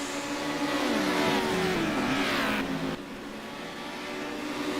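Touring race cars race as a pack at High Speed Ring in a TCM round, one engine sweeping down in pitch as it passes close and loud, then the roar drops to a lower, steadier drone.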